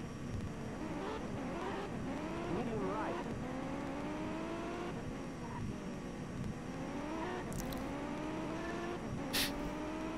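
Rally car engine from the N64 game V-Rally 99 whines steadily, its pitch climbing and dropping through repeated gear changes, while someone talks over it throughout.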